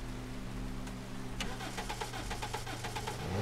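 A car engine starting in a haunted PS1 horror demo game, a cranking whir followed by rapid rhythmic firing that settles into a low idle hum, close and moderately loud with no talk.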